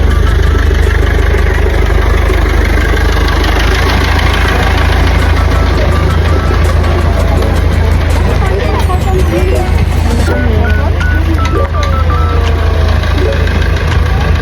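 A tractor engine runs loud and close for an apple farm ride in Canada, a constant heavy rumble that lasts throughout, with a few faint voices underneath.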